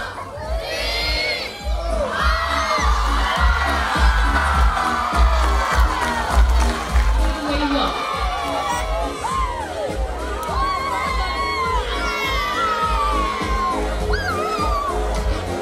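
A large outdoor crowd of schoolchildren cheers, shouts and whoops as balloons are released at a free Wi-Fi launch in Lau, Fiji. The din is loud, dense and continuous throughout.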